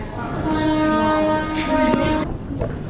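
A train rumbles in with a steady mechanical drone and horn-like tonal hum, close and loud, fading slightly toward the end.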